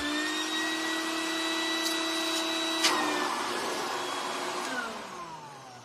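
Stinger 2.5 gallon (9.5 L) wet/dry shop vacuum running, a loud, steady high-pitched motor whine with a brief sucking surge midway and the tone falling as it starts to wind down near the end.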